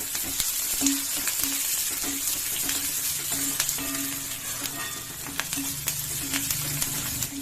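Raw ginger fries with onions in a pan, giving a loud, continuous sizzle close up, with occasional stirring scrapes and no voices.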